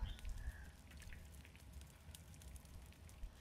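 Steady rain in the survival game The Forest patters continuously on surfaces, a soft, even hiss with faint scattered drop taps throughout.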